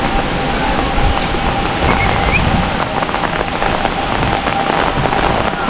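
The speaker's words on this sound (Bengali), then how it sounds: "ও বাবা, কি বৃষ্টি কি বৃষ্টি!" Heavy rain pours down steadily and loudly on surfaces nearby, a dense continuous drumming with no pauses.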